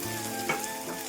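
Onion frying in a kadhai for egg bhurji, a soft steady sizzle with a brief louder crackle midway, close and alone without talk.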